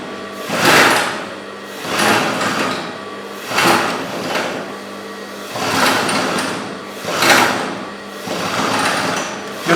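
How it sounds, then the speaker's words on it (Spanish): An industrial sewing machine stitching elastic onto a swimsuit runs in repeated short bursts, close and fairly loud, each burst a dense whir that ends in a pause. "empezamos a coser también."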